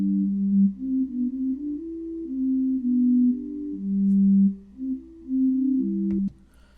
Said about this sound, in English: let's only listen to the fundamentals and hear how the two voices